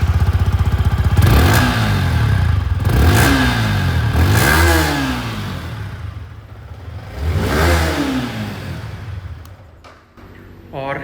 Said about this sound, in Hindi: सबसे पहले मैं आप लोगों को दोनों की जो एग्जॉस्ट साउंड है वो मैं सुनाना चाहूँगा